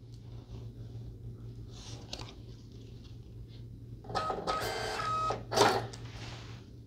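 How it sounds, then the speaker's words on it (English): Small receipt-style printer automatically printing a school late pass at a student check-in station, whirring and buzzing for a couple of seconds with a brief tearing or clicking burst at the end, over a steady low hum. "it will automatically print a late pass"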